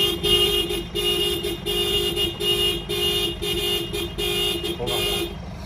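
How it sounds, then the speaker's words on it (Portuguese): A loud truck horn blares in a steady series of repeated honks, one after another, with engine rumble beneath and no talking. "Bota a buzina aí, tia. Ó a buzina."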